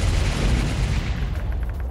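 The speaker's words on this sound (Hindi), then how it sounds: "गोलियां बरसाते नजर आए सैनिक" Soldiers firing weapons in Bakhmut during the Russia-Ukraine war: a dense, continuous rumble of gunfire and heavy booms, loud and sustained without a break, with no voices.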